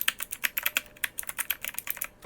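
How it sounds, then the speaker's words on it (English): Rapid clicking of the mechanical keys on a Divoom Ditoo Plus pixel-art Bluetooth speaker comes in a close, uneven run of about two dozen sharp taps. "You can even use these mechanical keys like a little fidget toy."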